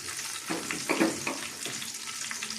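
Dried red chilies and cumin seeds frying in hot oil with garlic for a Telugu dish, a steady close sizzle with a few brief louder crackling bursts as spices hit the pan, no talking.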